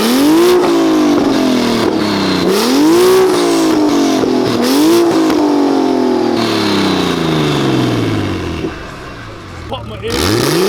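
A tuned 800 bhp car roars on a dyno at a tuning garage, its engine revving hard and loud in repeated rising pulls with falling pitch between them, close up, while voices talk over it.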